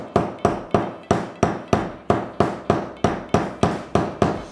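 Hammer taps rivets into leather straps on a bag, setting two rivets at once: a steady run of about fourteen evenly spaced, fairly light, sharp strikes, close by and alone with no talk.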